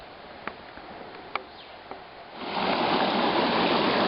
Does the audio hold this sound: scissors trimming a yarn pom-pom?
no